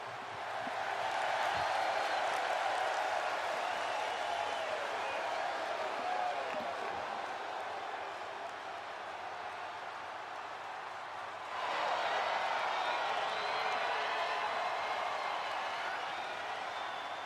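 Crowd noise at an independent wrestling show: a sustained roar of applause and cheering fills the whole span, dipping slightly in the middle before swelling again, with an announcer's voice partly audible over it.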